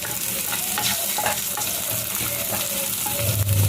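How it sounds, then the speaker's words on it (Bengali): Black and white cumin seeds with two dried red chillies crackle in hot oil for a Bengali fish curry, a loud, steady close-up sizzle with light stirring and no voices. "আমি কালো জিরে আর সাদা জিরে ফোড়ন দেব, আর এতে দুটো শুকনো লঙ্কা দিয়ে দেব"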